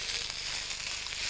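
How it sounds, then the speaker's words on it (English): Leek pieces stir-fried in a hot pan, a dense steady close crackling sizzle with no gaps. "So in goes the leek. And that's going to be stir-fried for 1 minute"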